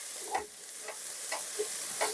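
Burdock root is stir-fried in a pan, its moisture cooking off, with a soft continuous sizzle and four evenly spaced scraping stirs of a utensil, close and fairly quiet.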